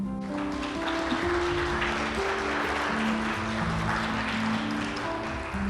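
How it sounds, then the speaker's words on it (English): An audience applauds continuously through a speech, a dense, even wash of clapping from many hands throughout, with a steady tone humming underneath. "so that you can keep clapping"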